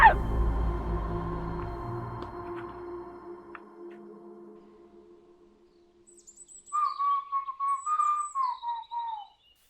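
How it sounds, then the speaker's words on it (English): Birds call and chirp in a burst of several descending, whistle-like notes after a fading ringing tone, moderately close, with no talk over them. "Ever wondered why the birds scream in bitterness?"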